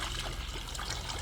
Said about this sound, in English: Pour some vinegar into a pitcher.